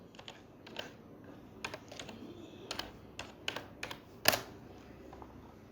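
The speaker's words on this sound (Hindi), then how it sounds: "इस पे क्लिक करने के बाद यहाँ पे टाइप कीजिए अनबॉक्सिंग।" Keys click on a computer keyboard as the word 'unboxing' is typed into a search bar. The keystrokes are quiet, sparse and irregular, with one sharper tap near the end.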